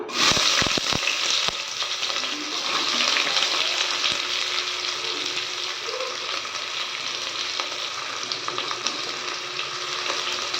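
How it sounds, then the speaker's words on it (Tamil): Mustard seeds pop and splutter in hot oil with chopped onion, in a pan for biryani-style tomato rice; a few sharp crackles at the start give way to a continuous bright sizzle. "இப்போ கடுகு வந்து நல்லா வெடிச்சிருச்சுங்க"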